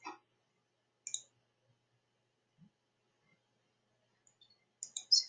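Sparse mouse clicks on a computer while posting in Google Classroom: a few short, sharp clicks spaced out in near silence, with a small cluster of them at the end.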